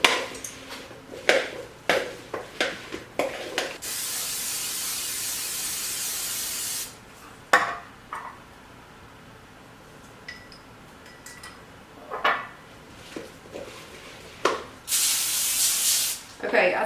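Olive oil cooking spray hissing onto seasoned turkey kielbasa and vegetables during meal prep: several short bursts, then two longer sustained sprays, mixed with clattering and stirring noises.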